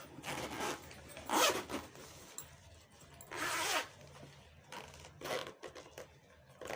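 A zipper on a sewn fabric bag is pulled open in several short rasping bursts, close and fairly quiet, with small pauses between pulls.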